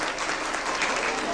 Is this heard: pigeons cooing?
no